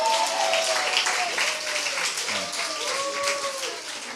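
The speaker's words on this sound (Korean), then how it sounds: "박수 한번 주십시오" Congregation applauding during a Friday night Korean church worship service, broad clapping and crowd noise running under a voice and music for several seconds.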